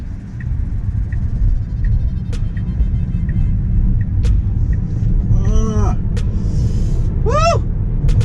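A Tesla Model 3 AWD car drives with a constant low road rumble filling the cabin, while people inside whoop and call out over it.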